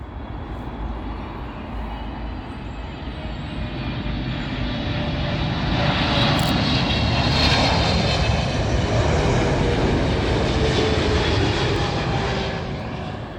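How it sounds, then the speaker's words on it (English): A British Airways Boeing 777 comes in to land at Heathrow, its heavy jet roar building from a moderate rumble to a loud, close peak midway before easing slightly, with no voices over it. "Up next, British Airways 777."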